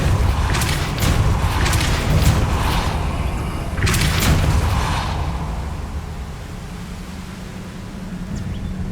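A Depulso spell cast in Hogwarts Legacy, heard as loud whooshing bursts and booming impacts over dense game ambience, fading toward the end, with no talking.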